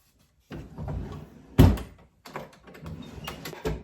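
A wooden dresser drawer in a small guest house bedroom slides open with a sharp thump midway, surrounded by soft shuffling and rustling of handling, close and moderately loud.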